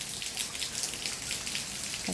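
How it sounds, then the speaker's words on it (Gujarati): Rain falling steadily during a downpour, a close, dense hiss of drops spattering on surfaces with no pause, constant in level and with no voices. "પાછો વરસાદ એટલો ચાલુ થઈ ગયો"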